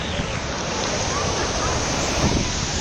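Choppy water in a wave pool at Volcano Bay water park churns steadily around a close swimmer, a continuous broad wash of surf with wind buffeting the microphone.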